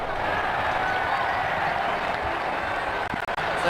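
Simulated stadium crowd applauding and cheering in the cricket video game Ashes Cricket 2009, a steady broad roar of clapping held at a constant level throughout, with a couple of brief dips near the end.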